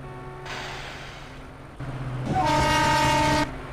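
An electric EMU local train on the Sealdah–Dankuni line in the Open Rails simulator pulls away, with a rising mechanical rumble and tonal motor whine that swells louder over a few seconds, no voices.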